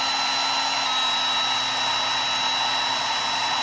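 A hair dryer blows steadily on a wet painting of a goldfinch, a loud, even whirring hum with a high whine that runs unbroken throughout, with no voices.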